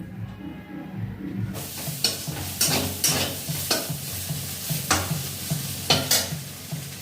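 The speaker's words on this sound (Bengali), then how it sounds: "এই ভাজা করছি, বিট গাজর আলু একসঙ্গে ভাজা করছি।" Beetroot, carrot and potato frying together in a pan in a home kitchen: a continuous close sizzle with repeated scraping stirs of a spatula against the pan at an uneven rhythm.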